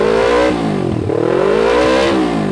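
An old Yamaha Vixion motorcycle with a twin-pipe exhaust revs up close and loud in a few repeated throttle blips, the pitch swelling and falling with no speech over it.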